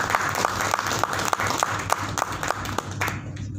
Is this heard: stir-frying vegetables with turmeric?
no